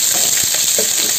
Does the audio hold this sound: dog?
no